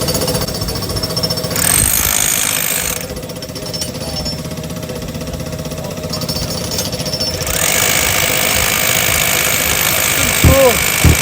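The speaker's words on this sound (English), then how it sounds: "This is their SDS Max hammer. It's the 18-volt 40C." A Bosch SDS Max 18-volt cordless hammer drill hammers in loud, steady bursts close by, with brief pauses between runs and a few quick clicks near the end.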